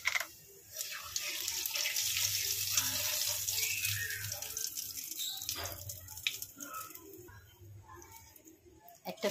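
Kalo jeera, radhuni and halved dried red chillies sizzle in hot oil, a steady hissing crackle with brief pops that fades slightly toward the end.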